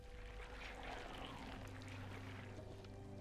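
Water pours gently onto a plant in the video game Grim Legends, a faint, steady trickling stream over a low hum.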